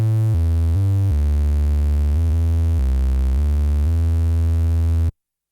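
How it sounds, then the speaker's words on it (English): Uno Synth Pro analog synthesizer oscillator droning a buzzy tone that shifts step by step from sawtooth toward a softer triangle, pitch held steady with brief changes, then stopping dead. "we have more of a sawtooth going into triangle"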